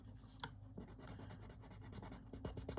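A yellow colouring pencil scratches across paper in quick, close strokes, a faint dry rubbing with a few sharper taps, and no talk.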